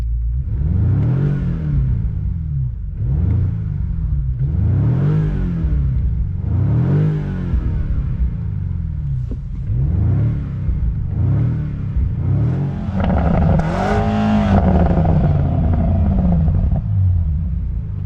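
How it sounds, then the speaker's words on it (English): A 2025 BMW M5 V8 with windows down revs repeatedly in strong rhythmic surges, a deep loud growl rising and falling, then a higher rev near the end with crackling pops and bangs from the exhaust. "That's pretty decent sound, V8 growl, some pops and bangs coming from the back"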